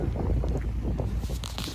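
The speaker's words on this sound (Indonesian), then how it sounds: "Anginnya sangat kencang sekali." Strong wind buffets the microphone at a lake, a brief, loud, low rumbling roar with no break.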